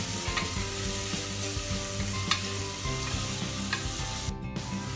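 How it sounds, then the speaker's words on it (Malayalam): Ingredients for a pressure-cooker chicken biryani sauté in a pan, a steady close sizzle and fry with repeated stirring scrapes throughout, no talking. "ഇത് നമുക്ക് അത്യാവശ്യം നന്നായിട്ട് വഴറ്റിയെടുക്കാം"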